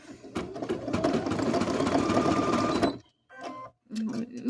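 A domestic sewing machine stitches fabric in a fast continuous whir for about three seconds, stops, then runs again in two short bursts with brief pauses between, recorded close up.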